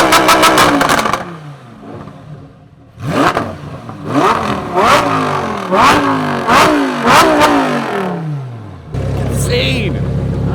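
Supercar engine in Corsa mode on a dyno at a supercar dyno day, loud close revving in repeated sharp rising and falling bursts, ending in a steady idle with voices and cheering mixed in.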